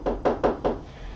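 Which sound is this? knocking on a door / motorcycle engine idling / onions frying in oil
knocking on a door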